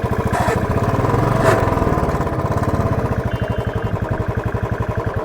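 A Royal Enfield Bullet Standard 350 BS4 motorcycle thumps along at speed during a braking test, its single-cylinder engine beating in a fast, even pulse, loud and close, with wind noise over it.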